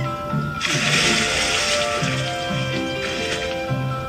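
A character splashes into the ocean in a Zelda-like video game played on iOS with a controller: a loud watery rush lasts over a second, then a shorter second splash follows over steady game music.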